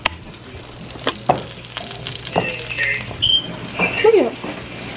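Salmon sizzling and frying in a home kitchen pan, a steady crackle with scattered sharper pops and utensil clicks, with a few voices talking faintly over it.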